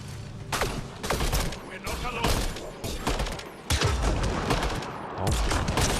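Rapid bursts of gunfire from a Mass Effect Andromeda firefight at an enemy base, loud overlapping volleys with heavy impacts and mechanical clatter, filling the whole stretch with only brief lulls.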